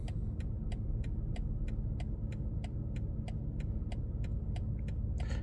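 A 2024 BMW X2 reversing itself into a parking spot, with a low steady rumble and a regular series of short, sharp parking-sensor beeps ticking at an even pace.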